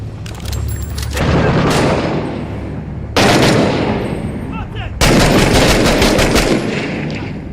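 Rifle gunfire in the video game Six Days in Fallujah, loud and close, with sustained rapid bursts and heavy booming shots in three back-to-back volleys and no pauses for talk.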